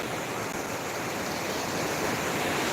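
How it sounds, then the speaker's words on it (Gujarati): Overflow water from a village lake in Ramdhari, Sihor taluka, rushes into a stream, a steady dense roar of flowing water heard close and without pause. "આવું બધી પાણી જાય છે નેરામાં"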